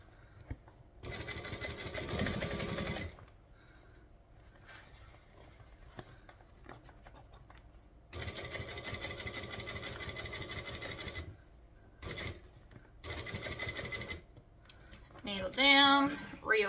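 A sewing machine runs in several bursts of rapid stitching as it goes around a bag at a long decorative stitch length, with quiet pauses between runs and a brief voice near the end.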